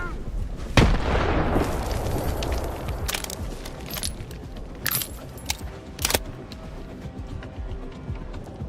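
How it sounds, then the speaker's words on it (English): Grenade explosion in the video game STALKER 2, a loud sharp blast followed by a rolling rumble, then scattered distant gunshots and debris clatter over the following seconds, no talk. "Grenade! Get down!"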